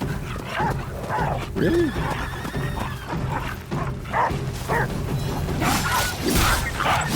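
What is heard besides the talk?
dogs attacking in the video game Ghost of Yotei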